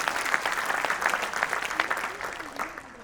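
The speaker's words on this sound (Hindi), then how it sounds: "देखिए आपने ताली बजाई भावुकता में आकर" A crowd at a Hindi comic poetry gathering breaks into applause, a dense, even burst of many hands clapping at moderate volume throughout, with no talk over it.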